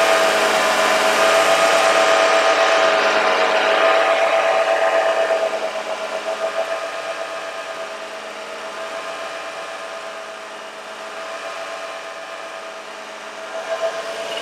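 A Toyota 2GR-FE 3.5-liter V6 runs steadily during coolant bleeding, a loud, close mechanical drone with a sustained tonal whine, louder for the first few seconds and then settling into a quieter even idle.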